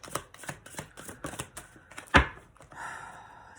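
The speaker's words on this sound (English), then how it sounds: "I'm sorry about the shuffling" Tarot cards being shuffled: a run of quick, papery riffling ticks that ends in one sharp, louder snap, then a brief softer rustle, all close and fairly quiet.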